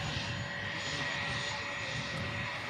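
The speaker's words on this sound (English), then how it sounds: "Saudia 787-9 Dreamliner." A Saudia Boeing 787-9 Dreamliner arriving at Manchester Airport from Jeddah makes a steady, loud jet engine roar with a sustained whine, continuous throughout with no talk.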